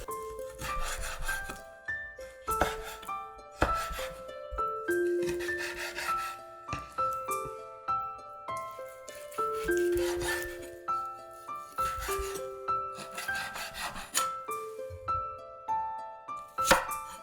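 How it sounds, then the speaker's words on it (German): A knife chops lamb meat into small pieces for skewers on a board, giving a long run of close, crisp chopping strokes in irregular bursts with brief pauses between them. "Wir schneiden die beiden Fleisch klein zu Aufspießen."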